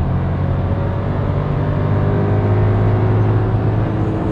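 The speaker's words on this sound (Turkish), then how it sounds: "Şöyle hemen basayım. 6500'e kadar çeviriyor." A Seat Ibiza 1.0 EcoTSI engine revs up to 6500 rpm in second gear, a steady droning hum with a rising whine, heard from inside the car without talking.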